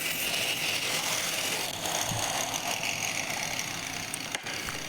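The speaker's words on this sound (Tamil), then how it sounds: "இப்போ நம்ம மார்க் பண்ண மாதிரி கரெக்டாக கட் பண்ணிக்கலாம்." An MDF sheet is cut along marked lines, giving a steady, loud, dense mechanical whirring and grinding noise that holds unbroken throughout, with a brief knock near the end. No one speaks.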